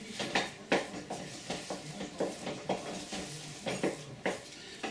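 Butter being stirred into freshly milled mashed potatoes, a spoon working the thick mash in a pot with repeated soft scraping and knocking strokes, close and moderately quiet, with no talking.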